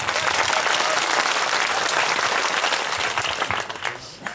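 A large crowd at a Thakor community gathering in Gujarat bursts into loud, sustained applause, many hands clapping together before the sound thins and tapers off toward the end.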